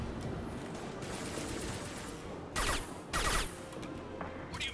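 Bursts of gunfire from a weapon in Mass Effect 2 combat, two loud volleys around the middle of the clip over a steady game background rumble, with a few fainter shots near the end.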